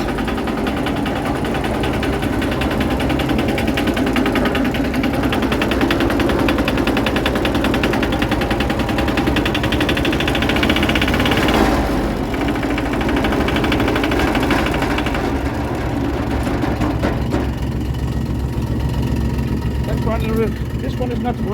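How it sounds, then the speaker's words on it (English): Four diesel engines, one running rough and smoky with worn injectors, rumble and clatter together in a steady loud drone, with a burst of harder knocking partway through. "So now we started 4 diesels"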